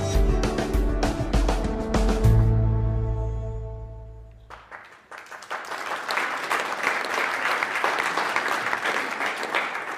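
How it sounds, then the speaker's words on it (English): Audience applause, beginning with a loud musical sting with sustained tones and then shifting into a steady, fairly loud round of crowd clapping that continues to the end. "Thank you for the applause."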